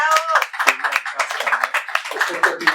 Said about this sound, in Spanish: Un fuerte aplauso para la maestra Eleonora.